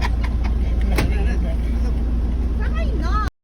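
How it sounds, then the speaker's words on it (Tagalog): A motorized tricycle engine rumbles nearby with a low, steady putter, while people talk over it. "Tricycle."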